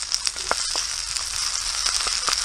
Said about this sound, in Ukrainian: А ось грибочки смажу вчорашні, це вже перша партія насмажена.